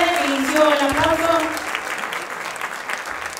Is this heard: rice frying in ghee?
no